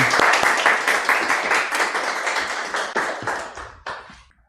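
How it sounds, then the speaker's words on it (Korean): A small church congregation at a Sunday service applauds to welcome a missionary, a burst of close, crisp clapping that gradually thins and fades out over a few seconds. "큰 환영의 박수로 우리 선교사님 환영하겠습니다"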